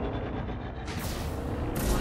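Enemy ship cannon fire during a space combat engagement in Elite Dangerous against a Krait, a dense continuous barrage of heavy booming shots with bright crackling bursts, loud and close, no talking.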